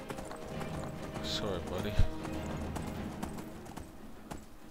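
Horse hooves clip-clop steadily on a main road in a video game as a horse is ridden hard, with someone talking over the rhythmic footfalls.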